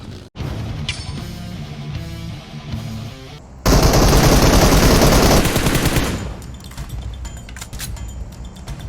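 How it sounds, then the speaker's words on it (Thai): Video game gunfire: muffled game sounds and music give way to a loud sustained burst of rapid automatic fire lasting a couple of seconds, then trailing into quieter shots and clatter. "แป๊บแป๊บแป๊บแป๊บอย่ายิงเฟิร์นอย่ายิงเฟิร์น"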